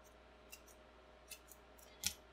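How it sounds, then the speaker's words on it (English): Scissors snip through a gray yarn tail during crochet work, giving a few faint, quiet clicks spread across a near-silent moment, the sharpest snip coming at the end. "I'm going to go ahead and cut that gray tail"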